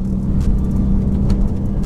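A 500 hp fully built Subaru WRX STI and a 400 hp bolt-on Mitsubishi Evo X drag racing, heard as a close, loud, constant engine rumble with some whirring over it.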